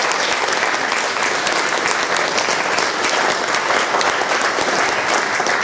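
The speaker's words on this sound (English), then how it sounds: "let's give our panelists a round of applause" An audience gives a round of applause for panelists after a roundtable discussion, a dense, loud, continuous wash of clapping from a full room that holds steady throughout.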